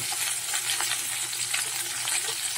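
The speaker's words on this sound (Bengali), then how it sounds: "ঢ্যাঁড়সটা চাপা দিয়ে একটু ভেজে নেবো" Okra seasoned with a little salt and turmeric fries in a covered pan, giving a dense, steady crackling sizzle that stays even throughout, close and moderately loud.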